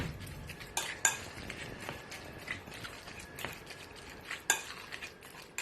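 A bent fork mashes fish guacamole in a bowl, giving quiet, irregular scrapes and taps against the dish, with a few sharper clicks, close and soft.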